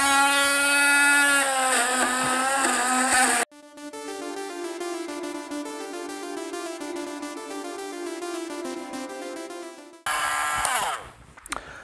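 A rotary tool spins against a wood stove door's seal groove, scraping out old crud and hardened fire cement. A whining motor rises and falls in pitch, then runs as a steadier buzzing grind before a final higher whine.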